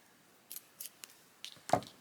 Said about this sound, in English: We're going to snip our yarn